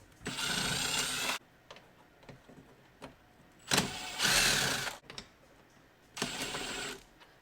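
A screwdriver loosens the mirror mounting screws on a 2024 Jeep Wrangler JL, giving three separate bursts of mechanical ratcheting and scraping with quiet gaps between them, close by and with no talking.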